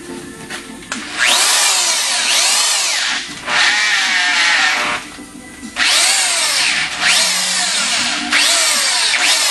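A power drill bores holes into a Cadillac Northstar engine block, loud whining bursts rising and falling over four separate drilling passes with short pauses between them.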